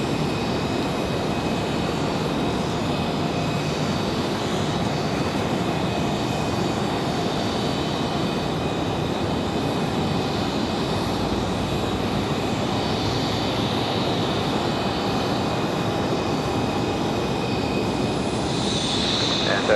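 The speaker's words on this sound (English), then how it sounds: "Next arrival, United 2091 coming in from Chicago" Boeing 737-900ER jet airliner arriving at Raleigh-Durham International Airport, a steady, loud broadband engine roar that holds constant throughout with a faint high whine above it, no talking.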